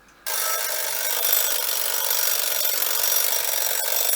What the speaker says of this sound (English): apparently the timer still works